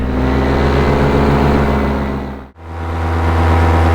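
A rebuilt Atom 80 engine runs at high revs during break-in, a loud, steady buzzing drone that dips briefly to near silence mid-clip before climbing straight back to full power.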